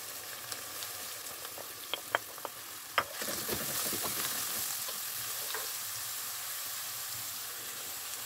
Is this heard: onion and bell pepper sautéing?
yes